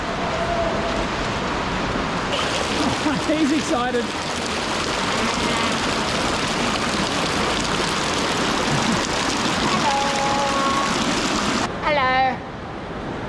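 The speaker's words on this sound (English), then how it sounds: "Got a nice waterfall overhang here." A waterfall spilling over an overhang in a sandstone canyon in the Blue Mountains near Blackheath, Australia, a constant close rushing hiss of falling water, with a person speaking briefly over it.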